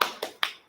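Three quick, sharp claps in a rhythmic spirit-clapping routine during a classroom teaching session, close and crisp with short decays between them.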